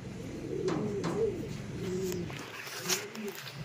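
A pigeon or dove coos in a few soft, low repeated phrases close by, with faint chirps and light background noise around it near Tagudin, Ilocos Sur.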